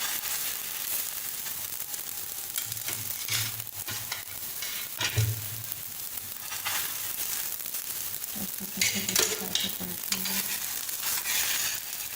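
Frozen lachha paratha cooking on a hot pan over low heat, a continuous soft sizzle broken by scraping, rustling and occasional crackling bursts, with no talk.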